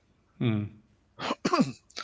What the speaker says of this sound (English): sorry, I need to cough again.